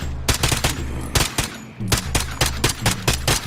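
Rapid bursts of gunfire from a zombie video game rattle in quick volleys, loud and close, with short pauses between the bursts and no talking.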